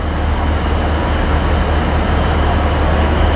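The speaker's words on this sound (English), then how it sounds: "Going into the sidings, isn't it?" A Transport for Wales Class 153 diesel railcar moves into the sidings near Shrewsbury, giving a steady, loud low rumble with a continuous engine drone and no pauses throughout.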